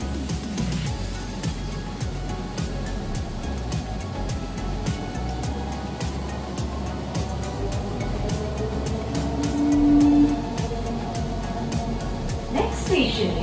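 A Kolkata metro train runs between Sealdah and Salt Lake, a sustained rumble and rattle of the carriage with a rising whine near the end, while people talk over the ride.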